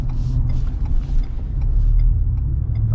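A 2022 Ford F-150 Rocky Ridge K2 with a 5.0 V8 on the move, its engine a steady, deep rumble heard from inside the cab, with no talking.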